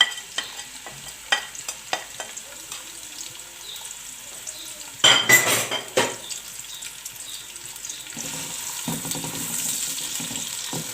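Onions dropped into hot oil in a pan, a sudden loud burst of sizzling after scattered clinks and stirring, settling into a steady frying hiss.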